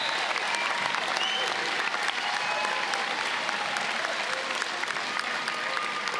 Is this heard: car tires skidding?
no